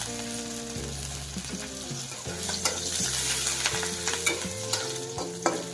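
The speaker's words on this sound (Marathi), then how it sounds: "पाच सहा हिरव्या मिरच्या मी ह्या तोडून घेतलेल्या आहेत ह्या थोड्याशा तळून घ्यायच्या आणि लसूणसुद्धा टाकून तळून घ्यायच्यात" Green chillies and garlic frying in oil, a continuous close sizzle with crackles and stirring scrapes, while music plays underneath throughout and nobody speaks.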